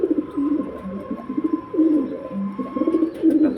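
Racing pigeons of a Kolkata long-distance line coo at a home loft, with repeated soft, throaty rolling calls close by and no talking.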